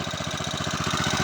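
A Matsumoto MGP 40HP petrol irrigation water pump, rated 3.5 PK, runs at half throttle with a steady, fast-pulsing engine chug, close and loud, with no voices.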